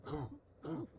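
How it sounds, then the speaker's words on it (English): Two quick rough coughs in the video game The Last Door Season 2, a moment apart, close and fairly soft, with nothing else around them. "someone coughing."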